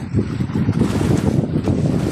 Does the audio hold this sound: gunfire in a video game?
no